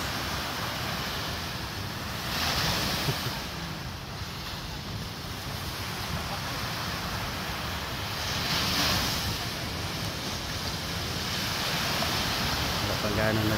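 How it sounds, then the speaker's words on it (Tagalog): Large ocean waves breaking at a beach, a constant roaring wash of surf swelling louder every few seconds, with wind buffeting the microphone and a voice speaking at times. "malaking alon pala dito"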